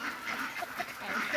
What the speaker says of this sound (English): ducks. They are mixed species.